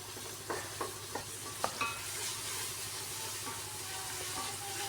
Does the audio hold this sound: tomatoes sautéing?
yes